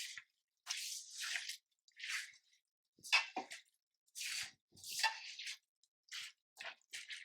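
Wet, squishy squelches of chicken biryani marinade with yogurt being squeezed and mixed by hand, coming in short irregular bursts with silent gaps between them.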